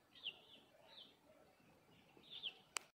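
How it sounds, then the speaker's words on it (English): Birds chirping faintly in the countryside near Nanjing, a few short high calls scattered over quiet ambient noise, followed by a sharp click. "Can you hear the bird singing around you?"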